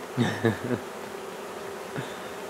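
Honeybees in an open hive being split produce short, close droning buzzes, a few quick bursts early and one more near the end over quiet background.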